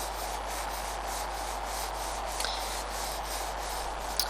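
A pencil shading on paper in circular back-and-forth strokes gives a steady soft rubbing hiss that continues evenly throughout, close and quiet, with a couple of faint ticks near the end.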